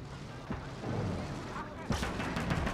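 Ferdinand tank destroyer firing in Gates of Hell, a few sharp booms at moderate distance, the last and loudest hitting near the end over a rumbling battlefield background.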